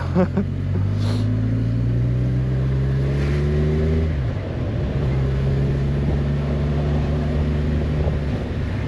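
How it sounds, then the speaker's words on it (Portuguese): A Kawasaki Z1000 SX four-cylinder sport-tourer motorcycle being ridden, its engine droning loud and steady with pitch rising through revs, dropping at a gear change, then climbing again amid wind. "Portanto, é uma moto com 4 cilindros, não é? De OHC 16 válvulas."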